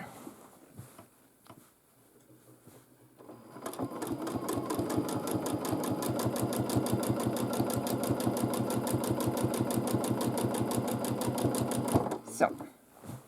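A domestic sewing machine quilts a large quilt, starting after a quiet pause and running in a fast, steady rhythmic chatter for about eight seconds before stopping, close and clear, with a voice speaking over it.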